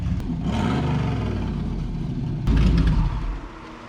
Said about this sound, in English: Rev it up.